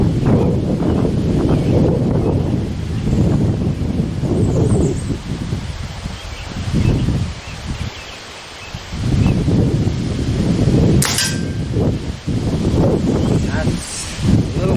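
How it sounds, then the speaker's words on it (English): Gusty wind buffets the microphone outdoors at an air rifle range where .22 pellets are being tested, a steady low roar that rises and falls over the whole stretch. "we are fighting the wind too, which can be a bit of an issue"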